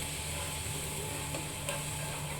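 Gravy for a besan bora posto dish simmering in an uncovered pan, a steady soft bubbling hiss with faint occasional pops, no talking.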